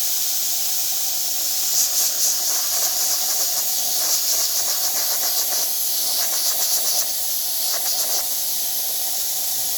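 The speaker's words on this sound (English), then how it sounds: "Nice strong steam." An espresso machine's steam wand gives a steady, strong hiss throughout, with faint rhythmic rattling and sputtering layered over the constant rush.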